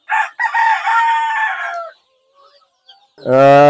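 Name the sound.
chickens crowing and clucking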